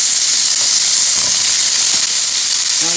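Food broken up into a preheated pan over medium-high heat sizzles loudly and steadily, a close, continuous hiss with a few faint scraping sounds.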